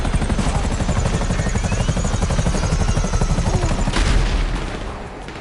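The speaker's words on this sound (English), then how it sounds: "they got some attack choppers on you" Attack helicopter in a PS4 combat video game, a loud continuous rotor chop with dense gunfire and explosions layered over it, swelling near the end before fading.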